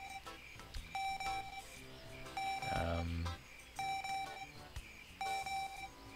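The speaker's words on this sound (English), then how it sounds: "Some kind of device here that's beeping at me." An electronic device in the Kaptain Brawe adventure game gives a series of clear, repeating beeps in short bursts at a steady rhythm, with brief pauses between groups.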